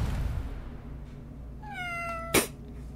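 A cat in the video game Madness Accelerant gives a single clear, rising meow with a harmonic tone, followed by a sharp loud burst, over a steady game background hum.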